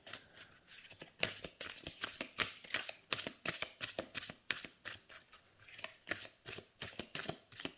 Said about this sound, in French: Les cartes glissent très très bien entre elles.